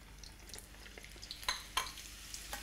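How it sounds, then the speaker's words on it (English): Sliced onions deep fry in hot oil, giving a soft, faint crackling sizzle with scattered sharp pops and no talking. "I've peeled an onion, I've sliced it, and I'm just going to deep fry those."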